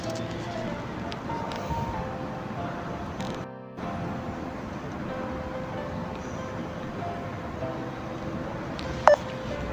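Telephone dialing on a call, faint tones and beeps over a quiet background hiss, with a brief gap and a sharper beep near the end.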